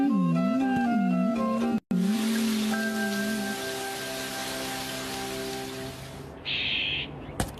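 Rain in a Shinchan cartoon scene makes a steady, broad hiss lasting several seconds. It sits under sustained musical tones and follows an owl-like hooting at the start.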